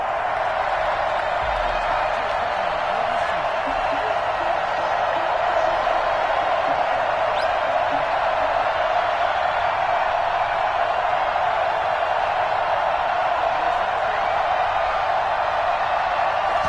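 Stadium crowd noise from Madden 21, a steady, loud roar of cheering fans in Foxborough before kickoff between the Toronto Thunderbirds and New England Patriots, continuous throughout without talk.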